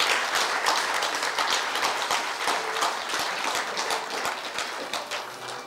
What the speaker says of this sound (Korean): 큰 박수로 함께 축하해 주시면 감사하겠습니다